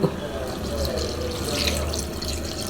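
Water pours steadily from a pot into a cooking vessel of mutton intestines, a continuous splashing gush heard up close.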